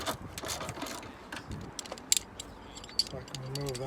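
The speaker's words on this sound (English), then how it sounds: "all the bolts here. Just gonna break all these loose." Ratchet loosening 10mm bolts on an 88-91 EF Honda Civic, heard as quick metallic clicks and clanks up close, with scattered tool knocks and a talking voice partly over the work.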